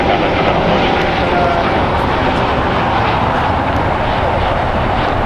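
Spirit Airlines Airbus A320neo jet at LAX, a steady loud engine roar filling the whole clip with broad rushing noise and no clear rise or fall.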